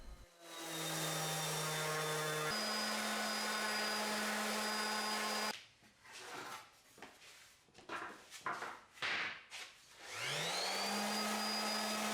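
A power sander works over both sides of a wooden picture frame, its motor holding a loud steady whine for several seconds, then cutting out into scattered rough scuffs before spinning back up to a steady hum.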